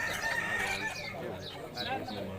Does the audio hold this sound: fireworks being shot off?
no